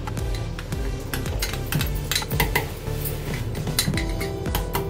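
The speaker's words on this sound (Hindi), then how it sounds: "तो फिर से हम इसे दोबारा फेंट लेते हैं।" Chilled ghevar batter with gram flour being whisked in a bowl, giving a steady, close run of quick clinks and scrapes of the whisk against the bowl for the whole stretch.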